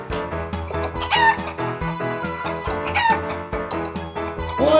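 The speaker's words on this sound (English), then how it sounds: "A chicken. Is this a sea chicken?" A rooster crow sounds from a toy fish caught during pretend play with toy cranes, a loud close electronic cock-a-doodle-doo over busy playful music.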